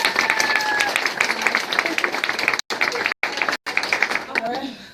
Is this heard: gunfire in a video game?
no